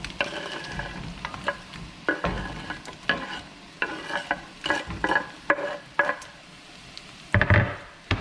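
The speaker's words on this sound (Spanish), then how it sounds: "lo que sigue es echar nuestro chicharrón aquí mismo" Pork rinds are stirred into green salsa in a hot pan with repeated scraping strokes and soft sizzling, at a steady close-up rhythm over about eight seconds.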